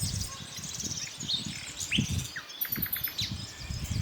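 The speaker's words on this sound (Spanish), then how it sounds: "Ruiseñor común." Common nightingale singing a short burst of bright, varied whistles and chirps, near and clear over a low rumbling background noise.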